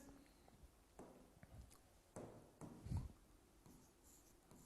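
Writing on a board during a physics lesson on galvanometers: faint scratching strokes and taps come in irregular bursts, close but quiet, with no speech over them.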